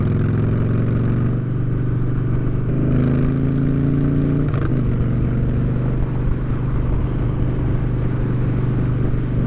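A Porsche car engine labours and strains to get going, a steady low drone with a rising rev partway through, loud and continuous throughout with no talk.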